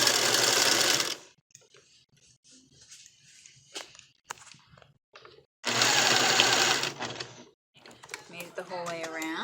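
A sewing machine stitches a lacey flower girl dress in two loud, steady bursts, each about a second long, with quieter handling noises and a voice speaking between them.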